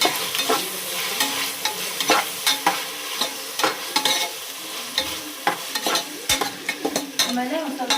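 Fish tawa fry sizzling steadily in a hot pan while being stirred, with frequent clicks and scrapes of the utensil against the metal over a constant frying hiss.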